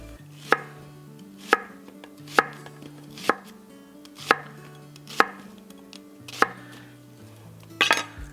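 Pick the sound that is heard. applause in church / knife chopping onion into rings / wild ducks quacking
knife chopping onion into rings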